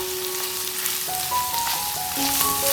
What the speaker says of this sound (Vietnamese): Sau khi phi thơm hành tím thì mình sẽ cho phần thịt xay vào để xào trước